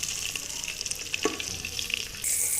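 A chicken leg piece fries in a pan with a steady, dense sizzle and crackle throughout, one brief louder pop near the middle and a slight rise in hiss toward the end; no voices.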